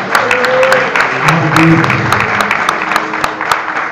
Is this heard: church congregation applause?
yes